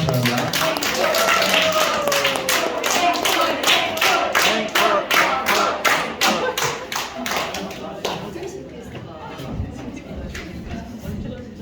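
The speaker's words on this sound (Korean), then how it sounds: "박수로 한번 부탁합니다" Audience applause at a church recitation contest: a dense, sustained round of clapping from a roomful of people, loud and steady for about eight seconds before thinning out and fading into scattered claps.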